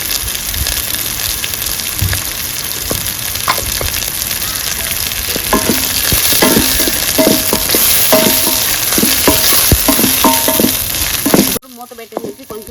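Tripe curry ingredients sizzle and fry steadily in a pan for boti curry, with repeated scraping and clinking of a stirring spoon against the metal, loud and close, with no talk.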